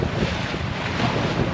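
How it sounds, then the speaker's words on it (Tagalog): Strong wind buffets the microphone over steady rushing sea waves around a boat at sea, a loud continuous roar with no voices. "Baka mabasa yun, ito mga laki ng alon."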